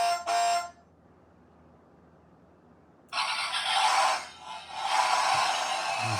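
A 1970 Dodge Charger scale model kit sounds two short electronic horn beeps, then falls silent before a loud, continuous engine rumble kicks in and carries on to the end with slight swells in level.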